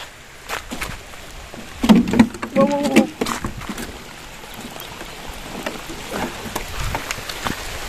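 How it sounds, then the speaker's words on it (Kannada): Rain falls on a solo camp at a riverside in dense forest, a steady broadband patter with scattered louder drops, and a voice briefly speaks near the middle. "ಅಯ್ಯೋ ಮಳೆ ಮತ್ತೆ ಬಂತು ಮಾರೆ."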